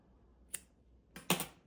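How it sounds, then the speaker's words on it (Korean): Scissors snip the yarn of a crocheted smiley keychain, giving a faint single click followed by a sharper double snip in an otherwise quiet room. "그 다음에 얘를 이제 잘라줍니다."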